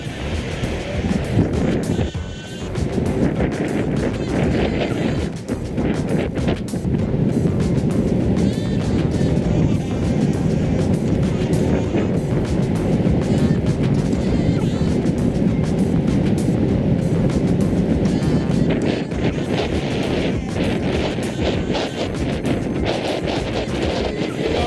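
Ownboard W1 electric skateboard at full throttle on a beach, a loud continuous roar of wheels and rushing wind buffeting the microphone, sustained and close throughout.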